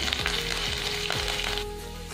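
Garlic paste, curry leaves and turmeric frying in hot refined oil for a raw jackfruit curry: a close, continuous crackling sizzle broken by a few soft knocks of stirring, with no talking.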